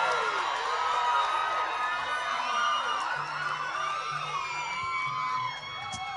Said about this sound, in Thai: ขอเสียงปรบมือให้ตัวท่านเองนะครับ